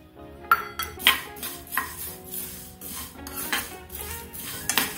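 Cumin seeds and coriander dry-roasting in a pan without oil for a curry leaf spice powder, heard as repeated metallic scraping and clinking of a spoon against the pan in an uneven stirring rhythm.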